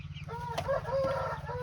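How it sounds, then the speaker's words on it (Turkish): A rooster or hen clucks close by in a few short, throaty calls over a low background hum, with no talk. "Horoz mu tavuk mu tam anlamadım."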